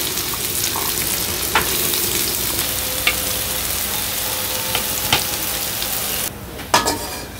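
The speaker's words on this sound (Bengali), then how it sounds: "আমি প্রথমে পেঁয়াজগুলো আগে ভেজে নামিয়ে নিব, তারপরে শাপলা দিব।" Onions frying in a pan over a village cooking fire: a steady, loud sizzle throughout, broken by a few clinks of a spoon stirring against the pan.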